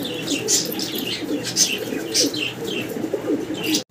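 Gola pigeons cooing repeatedly in a close, steady rhythm, with soft chirps and faint wing flutters mixed in and no talking.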